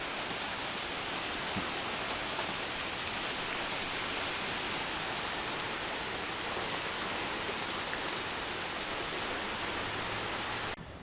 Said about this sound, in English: What a surprise, and another rainy day.